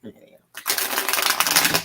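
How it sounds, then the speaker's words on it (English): Tarot deck being quickly shuffled by hand, a brief pause then a dense, crisp riffling flutter of cards lasting over a second, close and fairly loud. "I'm just going to shuffle these quickly."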